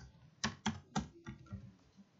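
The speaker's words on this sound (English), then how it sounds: "you can type in the name of exchange. Okay, I can type in Binance" Computer keyboard being typed on, three crisp close keystrokes in quick succession followed by a few softer taps, quiet with no talk.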